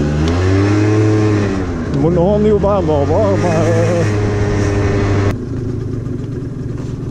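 A Yamaha Neos scooter, a barn find freshly fuelled with new petrol, revs in rising and falling bursts before settling to a steady idle, running close and loud while someone speaks over it.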